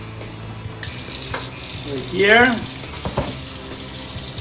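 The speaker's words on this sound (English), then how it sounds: "Let's open a little bit of cold water" Cold water runs from a kitchen tap into the sink, a steady close rushing stream with a louder gush in the middle and brief talk at the end.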